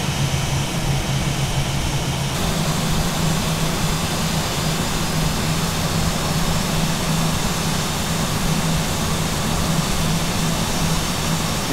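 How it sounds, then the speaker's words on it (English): A320 airliner's jet engines run steadily while taxiing to the gate in a flight simulator game, a constant loud roar with a low hum that shifts slightly partway through, no voices. "Retract the flaps as we taxi to the gate."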